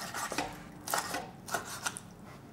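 Shrimp for seafood pancakes is cut on a board with a knife, giving a few soft, irregular chopping and scraping strokes, close and quiet, with no talking.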